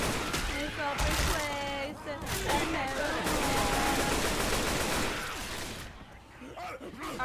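Rapid automatic gunfire and scattered shots in the video game Left 4 Dead 2, loud and sustained, mixed with players shouting and talking over the game's noise.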